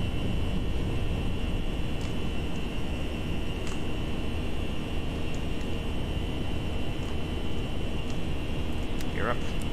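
An airliner takes off in the Prepar3D v4.4 flight simulator at dusk from Gatwick (EGKK), a steady loud broadband engine roar with a constant high whine holding throughout.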